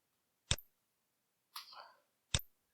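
Two sharp, isolated clicks about two seconds apart, with a brief soft rustle between them, close and quiet.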